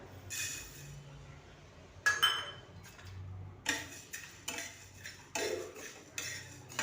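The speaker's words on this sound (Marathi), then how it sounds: "त्यानंतर आपण यामध्ये धने भाजून घेऊया" Coriander seeds dry roast in a pan for homemade garam masala, heard as scattered light clinks and scraping taps of a utensil against the metal pan, irregular and close, with quiet gaps between strokes.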